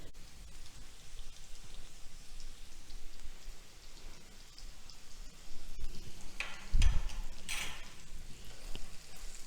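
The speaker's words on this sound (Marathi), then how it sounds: "आता हा आलू छान परतून घ्यायचा आहे" Potatoes with cumin, salt and red chili frying in a pan, a continuous rain-like sizzle with a louder burst of crackling and stirring toward the end.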